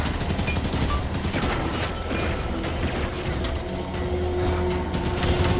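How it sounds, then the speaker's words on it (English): Cannon and turret fire in the Halo 5: Guardians campaign, a dense continuous barrage of mechanical firing and rattling under steady loud game noise, with no pauses. "dodge the fire from the cannon or the turret"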